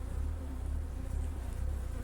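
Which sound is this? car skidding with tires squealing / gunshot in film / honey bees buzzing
honey bees buzzing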